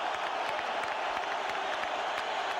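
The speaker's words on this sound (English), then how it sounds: "Listen to the boos." A boxing arena crowd at a heavyweight title fight roars with booing, a dense, continuous wall of massed voices filling the whole stretch.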